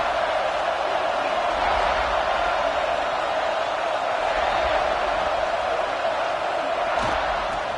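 A stadium crowd at a UCF college football game roars in a steady, loud wash of cheering, with a broadcast voice talking over the noise throughout.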